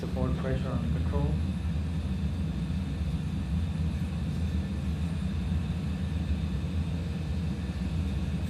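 An airliner's takeoff roll in a flight simulator game, a steady low engine rumble and roar held at an even level throughout, with a brief tonal chime near the start.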